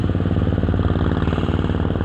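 A Yamaha RX motorcycle runs close by, its two-stroke engine giving a fast, steady, throbbing putter at even loudness for a couple of seconds with no talk.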